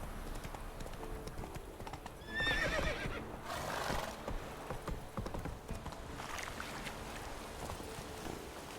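Roach the horse in The Witcher 3 neighs in a loud shrill whinny over steady galloping hoofbeats and wind.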